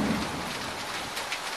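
Heavy rain pours steadily as a dense, even hiss with a low rumble like distant thunder, continuous and moderately loud with no voices.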